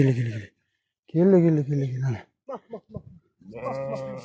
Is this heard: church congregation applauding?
no